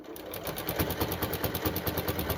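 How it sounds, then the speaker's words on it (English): Sewing machine zigzag stitching strips of fabric into a jelly roll, a steady rapid mechanical chatter with even rhythmic pulses running continuously and fairly close. "And I'm going to start zigzagging it,"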